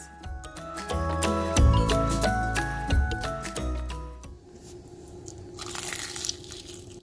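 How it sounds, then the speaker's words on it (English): Crunchy bites and chewing of crispy battered fish, loud and close, with gentle music underneath and a softer crackling stretch toward the end. "I definitely want you to hear how crispy and crunchy it is."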